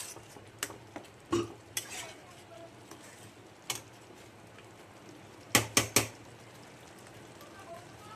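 Coriander and cumin powder are stirred into a covered pan while sautéing, with scattered utensil clinks and scrapes against the pan and a short burst of sharp knocks near the end. The quiet background carries the odd murmured voice.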